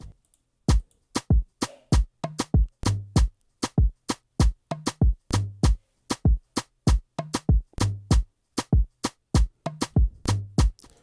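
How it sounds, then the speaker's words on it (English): A programmed drum groove from a beat remake of an Afrobeats song loops steadily, with crisp, evenly spaced hits and deeper kick-like thumps falling in a repeating syncopated pattern, loud and close with no voices. "we have a drum groove, and it sounds like this"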